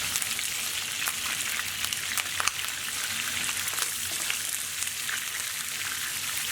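Chicken fries in a hot pan, a steady, even crackling sizzle that runs unbroken and fairly quiet throughout, with scattered sharper pops and no voices.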